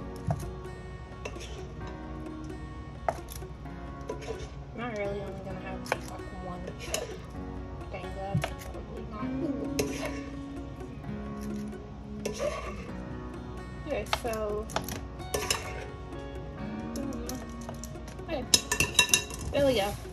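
Light clinks and scrapes of a spoon against a non-stick muffin pan as pancake batter from boxed mix is portioned into the cups, soft and intermittent under a low kitchen background.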